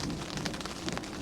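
Rain falls steadily and loudly on a surface during a Swedish summer storm, with a broad hiss and scattered drop impacts throughout and a low rumble of nearby thunder underneath.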